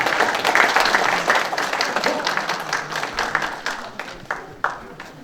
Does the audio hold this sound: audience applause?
yes